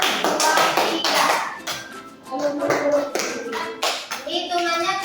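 Hands clap in a counted rhythm during a classroom lesson, bursts of clapping in grouped beats from several people, close and loud, with children's voices mixed in.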